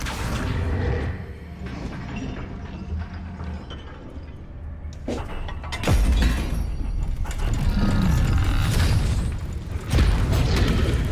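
Depulso and Accio spells cast in the video game Hogwarts Legacy, loud booming magical blasts with whooshes, bursts and shattering impacts layered over game music.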